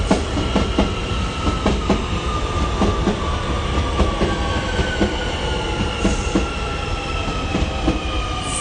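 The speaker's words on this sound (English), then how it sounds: "Okay, there is the train." A train rolls past nearby, a loud steady rumble with rhythmic clickety-clack from the wheels and a high wheel squeal that rises in places, with no voices over it.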